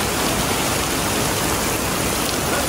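Heavy black rainstorm in Hong Kong, a dense, unbroken roar of downpour hitting surfaces, loud and steady with no voices.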